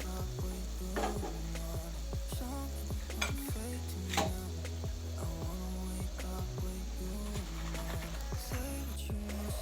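Spinach leaves coated in gram flour batter sizzle in hot oil as pakoras fry, a steady bubbling crackle with occasional clinks and scraping of a utensil against the pan, no one speaking.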